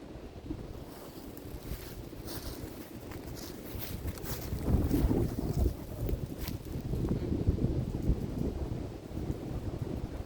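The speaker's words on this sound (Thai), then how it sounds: "แต่ว่าอากาศมันก็ยังหนาวอยู่หรอกเพราะว่ามันลม มันลมแรง" Strong, cold wind blowing through a forest near tall trees, a continuous roar that swells louder midway and buffets the microphone, steady and close with no talking.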